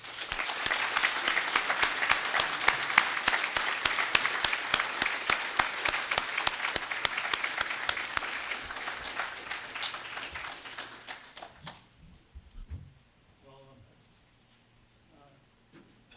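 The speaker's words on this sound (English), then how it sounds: "I hope you all will join me in giving them a big applause." Dense audience applause at a community forum introducing police chief candidates, loud and sustained for about eleven seconds before thinning out and fading to a quiet room.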